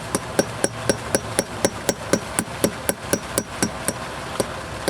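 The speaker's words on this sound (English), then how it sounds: "Got a hammer here, and I just tap that in." A hammer taps an anchor into place while installing a Unistrut frame, about twenty sharp, evenly spaced metallic strikes in a quick steady rhythm, close and loud with no talk.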